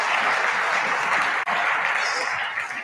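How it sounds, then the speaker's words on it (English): Sustained audience applause after a presentation at an adaptation conference, a dense, steady wash of clapping from a large crowd lasting throughout. "Can we give them another round of applause?"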